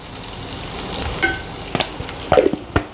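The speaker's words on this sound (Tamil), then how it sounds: "இப்போ பாருங்கள், இந்த கோவக்காய் நல்லா வதங்கிக்கிட்டு இருக்கு." Sliced ivy gourd (kovakkai) sautés in a pan with a light sizzle, while a spatula scrapes and stirs in several short, distinct strokes close by.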